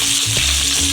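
Potatoes and hot green chillies are stirred in hot oil for sabudana khichdi, giving a loud, dense sizzle with a brief scrape of the spoon near the middle.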